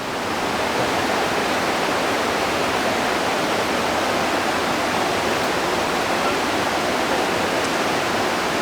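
Waterfall on the Langsean river near Ngadirejo village in Java, a steady, dense roar of falling water filling the whole clip without a break, loud and close, with no voices.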